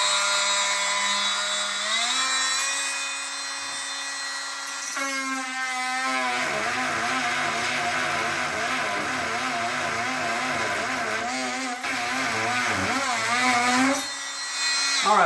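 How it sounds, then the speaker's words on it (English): An oscillating multi-tool blade whines and buzzes steadily as it cuts through a screw holding a granite countertop, loud and close, its pitch shifting and wavering under load before briefly stopping near the end. "just take the multi-tool and cut that screw"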